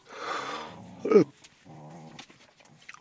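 A dog growls in two low, rumbling stretches with a short snap-like burst between them. The growls are close and distinct, with no voices over them.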